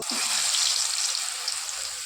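Urad dal vada batter frying in hot oil gives a steady, loud, close crackling sizzle that runs without a break, with no talk over it.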